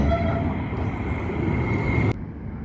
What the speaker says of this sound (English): I can hear a tram. Oh, it's coming from this side.